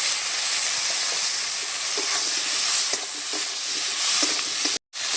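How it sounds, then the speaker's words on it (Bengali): Cut potato pieces stirred into a sizzling spice paste for a Bengali fish curry, a loud, close, continuous frying hiss with scraping spatula strokes running throughout and a brief cut near the end, no voices. "আলুটা দিয়ে একটু নেড়ে চেড়ে নিয়েছি।"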